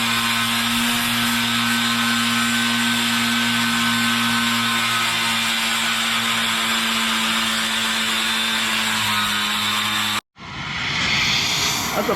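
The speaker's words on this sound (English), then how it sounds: "That's a funny looking grinder you got." A grinder runs loud and steady with a strong constant hum and broadband whine, then cuts out abruptly near the end and spins back up, with work underway on the undercarriage of a 120.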